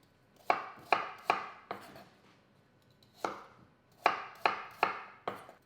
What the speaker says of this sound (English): the next thing we're going to do is to chop the apples